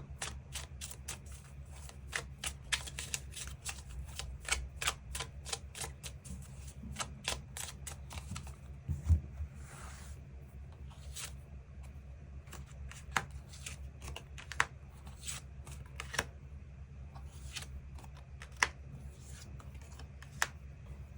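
Tarot cards are shuffled and drawn close up, a long run of crisp rapid riffling snaps and flicks that come in bursts, then slow to scattered single card slaps over a quiet background.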